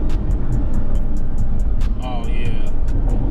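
A Camaro SS 1LE's exhaust rumbles up close and throws a rapid series of sharp pops and crackles, with a voice speaking over it.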